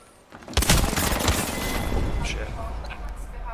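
Gunfire in the video game Apex Legends: a sudden burst of shots starting loud and close, followed by continuing rattling fire and echoing booms over a busy background.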